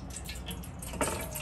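Half a tumbler of water is poured into wheat flour for poori dough, making a brief, close splash and trickle over a steady background hiss.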